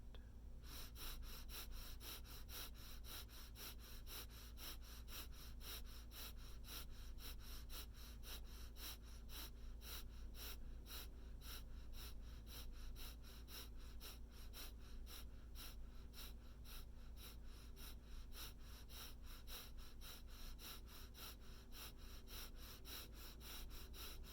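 Rapid, forceful bhastrika bellows breathing, a steady train of quick in-and-out breaths running continuously at an even rhythm, close and fairly loud, with no talking.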